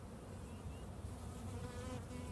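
Honey bees buzz steadily during a hive inspection, a dense, close drone of many insects with no voices.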